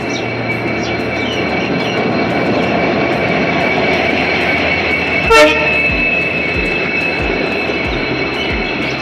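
A train locomotive rumbles steadily at close range at a station during a locomotive change, with one sharp metallic clank about halfway through. No one speaks.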